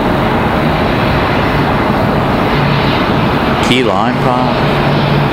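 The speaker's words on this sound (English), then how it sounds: "So this one, a Cessna Citation CJ3." A Cessna Citation CJ3 business jet near Raleigh Durham airport gives a loud, steady, broadband jet roar with a short stretch of speech over it partway through.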